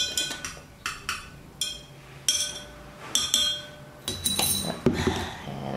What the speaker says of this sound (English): Mix it up like when you mix coffee.